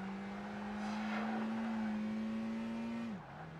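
Ferrari 575 engine in the Project Gotham Racing 2 racing game, a steady sustained drone that climbs slightly in pitch, then drops sharply near the end as the revs fall, with no talk over it.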